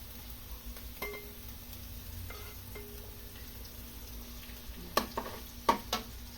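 Cooking oil heats in a pan while preparing menudo, giving a steady low sizzle with a few clinks of utensils and sharper stirring scrapes near the end; no voices.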